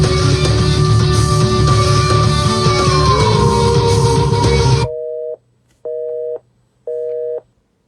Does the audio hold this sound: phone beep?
yes